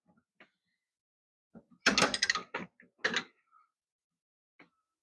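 A 14 mm wrench snugs a brake line fitting on a 1993 Jeep Wrangler, giving a few short, close metallic creaks and ratcheting bursts separated by quiet gaps.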